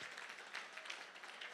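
An audience at a Big Brothers Big Sisters of Northern Sierra event applauds sponsors, a dense, even patter of many hands clapping that sounds distant and faint throughout.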